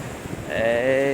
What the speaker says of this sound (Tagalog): tingnan nyo yung alon ng tagilid kasi habagat na